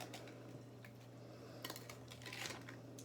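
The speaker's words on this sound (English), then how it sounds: "Now I'm stirring it again," A spoon scrapes and clinks softly against a bowl while blueberry pie filling is stirred, faint and close over a steady low hum.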